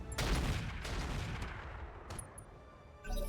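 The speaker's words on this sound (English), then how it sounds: "our artillery is going to move up over this way, Onward. and we're going to fire on the up-armored Saladin" Artillery fire in the RogueTech video game, aimed at an up-armored Saladin: a heavy boom at the start, then a rolling burst of shots that fades into rumble, with another thud near the end.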